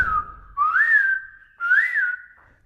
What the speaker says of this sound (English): We're in Navadip, we hear the kokils.